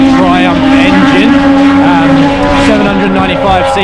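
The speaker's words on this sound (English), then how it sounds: "these bikes are a 3-cylinder Triumph engine" Moto2 racing motorcycles with 795cc 3-cylinder Triumph engines at Phillip Island practice, a loud sustained high-revving whine with shifting pitch near the first corner off the main straight, a voice talking over it.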